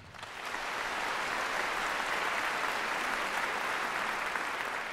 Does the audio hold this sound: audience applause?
yes